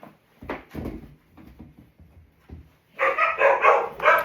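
Several dogs bark indoors in a home, first a few separate close barks, then a loud burst of overlapping barking toward the end.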